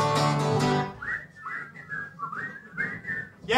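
People whistle a wavering, sliding tune together right after a burst of loud voices, the notes rising and dipping in short phrases before a sharp noise at the end.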